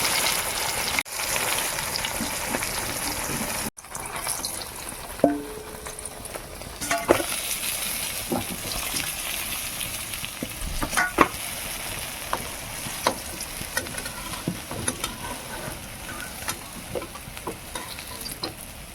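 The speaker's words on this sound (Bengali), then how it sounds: "এভাবে আমি লাল লাল করে সব মাছগুলো ভেজে নেব।" Pangas and tengra fish fry in oil in a wok, a continuous loud sizzle and crackle with occasional sharp pops and utensil clicks, close and steady throughout.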